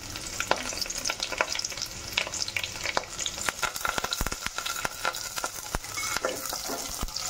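Garlic cloves and curry leaves frying in a pan for masala kadhi, a busy, close crackling sizzle broken by repeated sharp spatters and scrapes of stirring throughout, with no voices.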